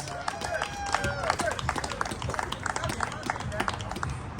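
An audience applauds while a speaker walks up to the stage, a dense patter of claps with crowd murmur mixed in.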